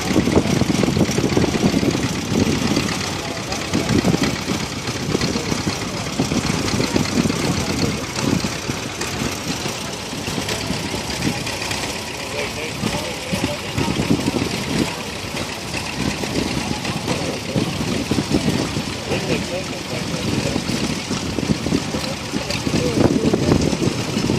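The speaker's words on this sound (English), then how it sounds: "We got another John Deere, either L or LA." A John Deere L or LA tractor engine idles as it passes in an antique power parade, a steady mid-level chugging drone that carries on throughout, with voices talking over it.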